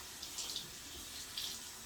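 Cold water runs from a tap into a sink during a morning face-washing routine, a faint, steady hiss with soft splashy swells, heard alone.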